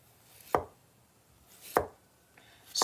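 A knife slicing a vegetable into thin salad slices on a cutting board, three crisp close chops at an even, unhurried pace, with no talking.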